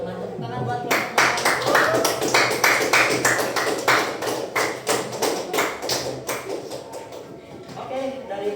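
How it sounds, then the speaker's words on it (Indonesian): Classroom of students clapping for a presenting group, a loud burst of close hand claps lasting several seconds and tapering off, with faint voices at the start and end. "Tepuk tangan buat kelompok 4."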